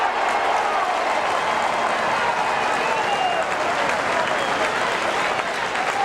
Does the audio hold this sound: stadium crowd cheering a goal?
yes